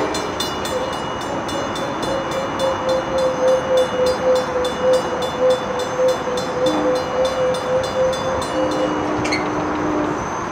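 A New Haven P32AC-DM diesel locomotive, number 230, rumbles past on the Danbury branch with a steady, sustained horn blast lasting several seconds, heard close over the clattering of rail cars.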